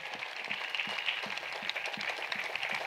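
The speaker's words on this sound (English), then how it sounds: "So let's clap together." A church congregation at a salvation and healing meeting in Cocody claps together in a quick, regular rhythm, many hands sounding moderately loud against a bright crowd background.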